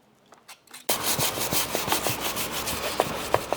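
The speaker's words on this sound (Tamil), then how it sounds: "அதெல்லாம் ஒரு பிளேடு வச்சுட்டு சுத்தமாக வந்து க்ளீன் பண்ணி எடுத்துடலாம்" A blade scrapes dirt off the crankshaft of a 40-year-old diesel engine under restoration. After a brief quiet start, it makes rapid, close, rasping strokes in a repeated back-and-forth rhythm with occasional metallic ticks.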